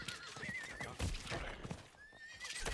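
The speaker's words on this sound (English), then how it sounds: "Make your horse sprint, run past some guys." A horse in the Diablo 4 video game neighs in a long whinny, then hooves clip-clop at a steady pace, followed by a second whinny, all fairly quiet.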